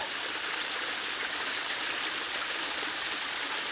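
Creek water flows steadily in a soft, even rush with a faint trickling texture, heard close and alone in a quiet outdoor setting.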